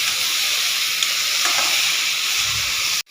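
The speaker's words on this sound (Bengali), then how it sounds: "নুন হলুদ দিয়ে ভালো করে সব সবজিগুলো ভেজে নিয়েছি" Vegetables fry in a pan with salt, turmeric, chopped ginger and dry-roasted cumin powder, giving a loud, steady sizzle up close that cuts off abruptly at the very end.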